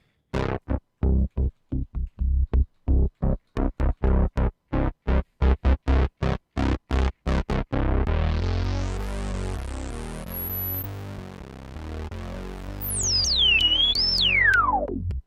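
A Behringer Poly-D analog synthesizer plays a run of short, punchy notes, then shifts into a sustained, warbling tone whose filter sweeps upward into bright, whistling rises.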